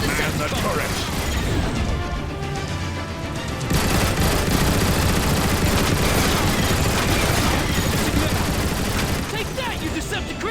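Turret gunfire pounds continuously in Transformers War for Cybertron, a dense, loud barrage of shots and mechanical clatter with explosions layered through it, while voices speak over the battle.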